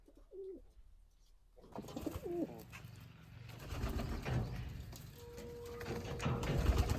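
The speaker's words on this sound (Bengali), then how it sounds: "আমাদের কবুতরগুলোর জন্য আমি এখন দুপুরে খাবারটা নিয়ে এসেছি সবাইকে দুপুরে খাবারটা দিয়ে দিই" Pigeons in a loft give soft, low cooing calls, a couple of clear coos near the start, then a busier background of shuffling, flapping and faint coos that grows louder toward the end.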